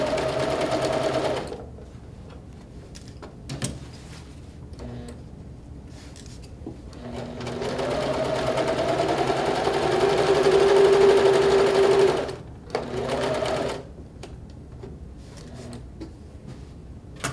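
A sewing machine runs a quarter-inch seam around a quilted piece in several bursts of steady, close stitching, the longest lasting about five seconds, with short pauses and small handling knocks between them.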